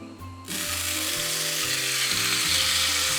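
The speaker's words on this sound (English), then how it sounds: "And now we'll be ready to put on our ribeye steaks." Marinated ribeye steaks hitting a hot pan over medium heat, a sudden loud broadband sizzle that starts about half a second in and holds steady, with low scraping and clanks of the pan underneath.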